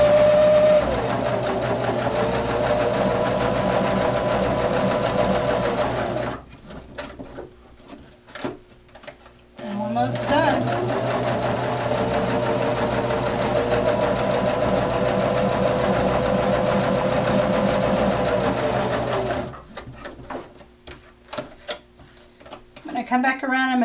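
A sewing machine runs in steady bursts, stitching across earlier stitching on a small fabric screen cleaner, its rapid mechanical chatter broken by short pauses with soft handling noises.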